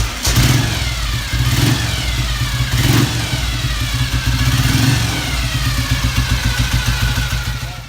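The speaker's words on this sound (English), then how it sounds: "specially designed exhaust. It gave it a sound unlike any other British bike of its time" A 1950s BSA Gold Star single-cylinder British motorcycle with a specially designed exhaust revs hard and repeatedly, loud and close, the blips rising and falling over a throbbing idle.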